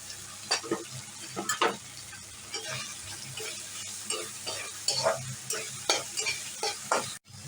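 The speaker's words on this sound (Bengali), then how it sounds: "তেল বেরিয়ে গেছে আমি টমেটোটা দিয়ে দিচ্ছি" Tomato goes into hot oil and fries with a steady sizzle while a spoon stirs and scrapes the pan in repeated close, uneven strokes, no talking.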